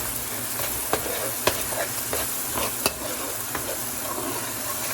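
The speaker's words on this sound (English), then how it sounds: "Please stir." A spoon stirs curry with green seasoning in a pot, sizzling steadily throughout, with a few sharp scrapes and clanks against the metal.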